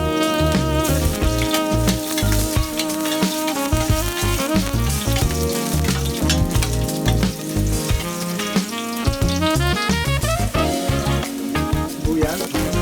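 Garlic sizzles steadily in hot oil at the start of cooking chopsuey, a dense, continuous frying crackle held close and loud throughout with no pauses.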